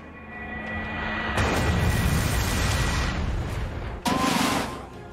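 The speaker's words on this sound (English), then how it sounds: "Faupierre used Lunar Cannon." The Lunar Cannon attack from the video game Manamon 2 blasts out as a heavy, roaring burst that lasts several seconds, then cuts briefly before a second sharp blast near the end, over a quiet tonal background.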